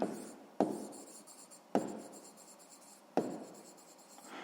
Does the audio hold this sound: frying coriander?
no